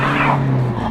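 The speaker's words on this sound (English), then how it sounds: "there's a car behind me that just suffered from a little bit of wheel spin" A car on a snowy road in Princetown on Dartmoor spins its wheels, a steady whining engine rev and tyre whirr held close and loud for the full second.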